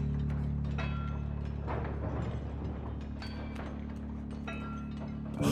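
Mechanical ratcheting and gear-like clicks from the Inscryption video game, a steady run of clanking over a constant low machine hum, fairly close and even in level with no talking.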